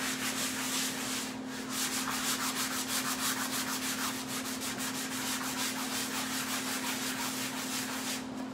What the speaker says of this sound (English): I'm actually gonna grab a tougher grit sandpaper.